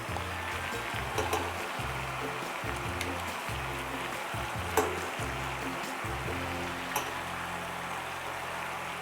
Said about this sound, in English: You can hear that the water is boiling, that means it's ready.